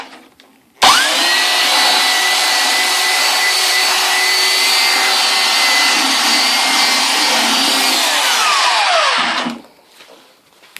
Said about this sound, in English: you can either run the sander down